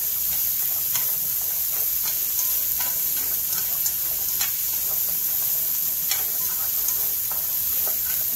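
String beans and shrimp stir-frying in a pan, a steady close sizzle with scattered clicks and scrapes of stirring, no voices.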